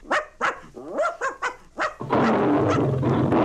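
Small dog Toto barks in a run of six sharp, loud yaps close by, then a burst of rough broadband noise takes over and continues steadily to the end.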